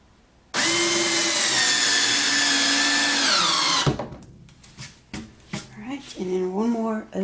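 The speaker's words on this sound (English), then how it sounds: "I'm gonna drill another one" A power drill drives a screw into a wooden soap slab mold box, its loud whine rising steadily for about three seconds before stopping abruptly, followed by handling clatter and a voice speaking.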